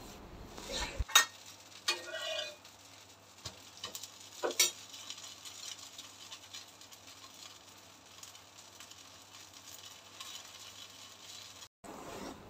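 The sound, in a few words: dosa sizzling on a hot tawa griddle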